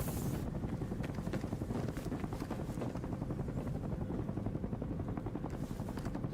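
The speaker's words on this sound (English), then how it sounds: "Watch for helo coming out of that smoke." A helicopter in the video game Battlefield 6 during a battle royale match, its rotor chopping in a steady, continuous beat with a windy rush, fairly faint and unbroken throughout.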